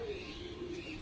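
A female pigeon gives a short, soft, low coo close by, a single murmuring call lasting about a second.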